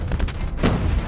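A grenade blast in Call of Duty makes a short, heavy, booming burst that swells and fades quickly, loud and near, amid battle noise.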